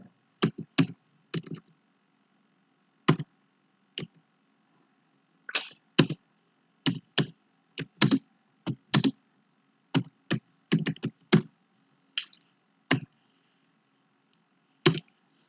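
Keys on a computer keyboard clack in irregular bursts as a letter is typed, with distinct nearby clicks and short pauses between runs of keystrokes.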